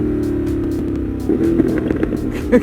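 Ducati Monster 1200 engine running close, then a few sharp, quick revs as the auto blip fires on downshifts, short rising bursts over the steady engine note.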